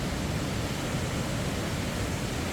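Sambuyeon waterfall in Cheorwon plunges with a continuous rushing hiss, fairly soft and even throughout, heard alone with no voices.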